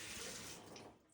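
Water rushes faintly into a Speed Queen top-load washing machine being checked for a leaking valve, a soft steady flow that tapers off within a second, with no talking.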